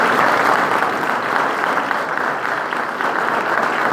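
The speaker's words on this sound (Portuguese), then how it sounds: "Agora nós vamos dar uma salva de palmas a essa mesa tão brilhantemente composta" Audience applause for a panel at a talk: steady, dense clapping from a crowd, filling the whole stretch at an even level with no break.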